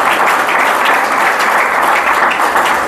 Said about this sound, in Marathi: आम्ही परमेश्वरासाठी टाळ्या वाजूया एक वेळेस